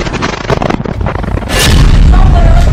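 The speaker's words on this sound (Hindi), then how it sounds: "रोड की दूसरी तरफ एक मरकावा टैंक खड़ा है और फिर धमाका एक दूसरे कैमरे से रिकॉर्ड किया जाता है" A Merkava tank hit by a rocket explodes in a loud, heavy blast with a broadband roar that lingers, following a stretch of rumbling, crackling noise.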